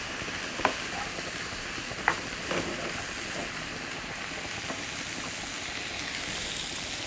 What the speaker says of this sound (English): keep it stir frying.